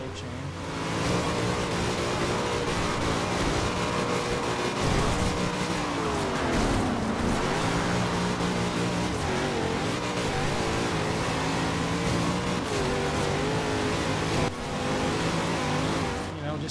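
A race car in Forza Horizon 2 drifts and brakes through a checkpoint on Storm Island, its engine a loud, continuous roar with pitch sweeps and tire skid, steady and close throughout.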